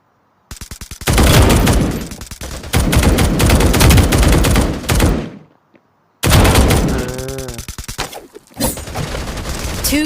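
Rapid bursts of gunfire from a first-person shooter video game crack loudly in quick succession, broken by a short silent gap before another run of shots and a final burst.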